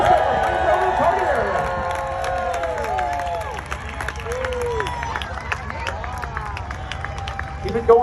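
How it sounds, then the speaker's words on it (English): A Fort Bragg crowd at a 4th of July parachute demonstration cheers and roars as a jumper lands, with an announcer talking loudly over the sustained crowd noise and scattered whistles. "always seem to do better when they can hear the roar of a Fort Bragg crowd"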